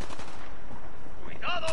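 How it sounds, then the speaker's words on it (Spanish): Rapid bursts of gunfire in the video game Fallout 4, loud and close, crackling in quick succession over a short stretch, with a brief tonal game sound near the end. "¿Qué leche me está disparando?"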